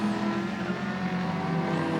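Touring race cars of Australian Group A and Group C classes at the Winton circuit, their engines roaring steadily and loudly throughout as they accelerate past, with no voices heard.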